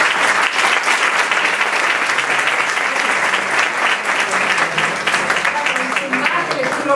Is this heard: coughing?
no